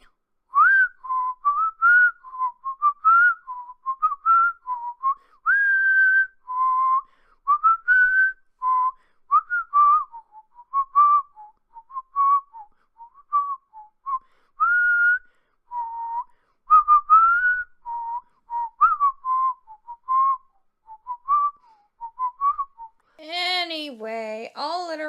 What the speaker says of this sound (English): When somebody mentions Whistling Whirlwind, you just whistle a random song?